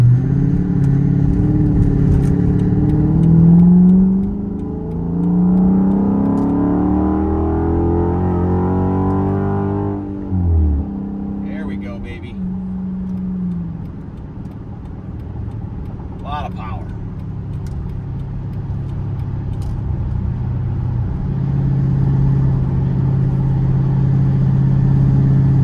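A 2007 Dodge Magnum SRT8 cruises at 75 mph around 2,200 RPM, a deep steady engine hum with road rumble inside the cabin, a voice talking over it early on.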